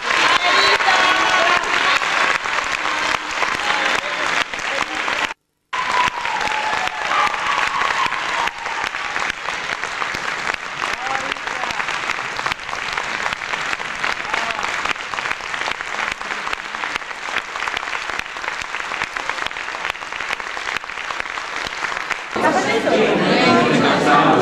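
A theatre audience applauds a local stage company's show: dense, sustained clapping mixed with crowd chatter, broken by a brief silence early on, with the clapping thinning near the end.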